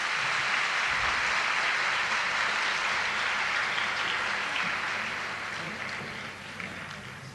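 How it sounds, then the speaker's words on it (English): An audience at a spiritual gathering breaks into a dense, loud wash of clapping that carries on steadily for several seconds, then slowly thins and fades toward the end, with no talk over it. "So you should clap now"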